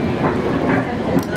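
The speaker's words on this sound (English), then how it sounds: "That was an Amtrak." An Amtrak train rumbles past close by, a loud continuous low roar with faint rhythmic rail clatter throughout.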